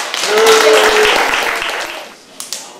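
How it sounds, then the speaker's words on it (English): Audience applause at the closing ceremony of a charity scuba diving event, a loud burst of many hands clapping that swells quickly, holds, then tapers off with a couple of isolated claps at the end. "Give yourselves a big round of applause"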